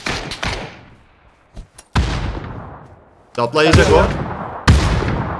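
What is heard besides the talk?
grenade thrown and exploding in PUBG video game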